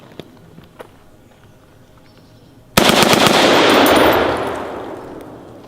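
A heavy Warfighter AR10 rifle in .308 with a muzzle brake fires a single loud, close blast that rings out and slowly fades, after a few faint shuffles and clicks of handling.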